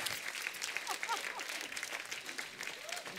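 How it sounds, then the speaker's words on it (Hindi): Studio audience on The Kapil Sharma Show, a Hindi comedy talk show, breaking into dense, continuous applause that holds at a steady level for the whole stretch, with faint voices beneath it. "धैर्य और सिद्धांत चतुर्वेदी के लिए जोरदार तालियां।"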